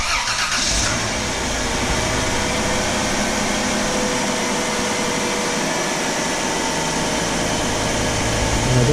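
A car engine with a newly fitted alternator runs steadily after cranking, a loud, continuous mid-pitched hum and whir that starts with a brief catch and then settles into an even drone.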